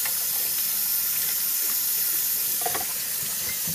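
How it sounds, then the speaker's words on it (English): A spoon rinsed under a running kitchen tap: a steady, close broadband hiss of flowing water with faint clinks partway through, no voices. "So I'm gonna go ahead and just clean off that spoon."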